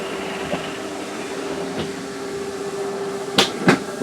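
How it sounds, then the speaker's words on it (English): An RV slide-out motor on a 2022 Flagstaff Micro Lite 25BRDS travel trailer drones steadily, then gives a few sharp clacking ratchet knocks near the end. "So there goes your slide out."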